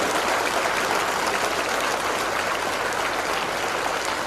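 Dense, steady applause from an audience at a Siddipet gathering with Harish Rao, a continuous wash of many hands clapping at even loudness with no voices standing out.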